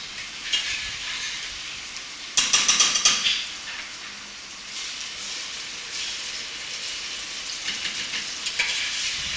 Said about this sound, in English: she has just put the blended tomatoes in the pot and is stirring again to keep everything loose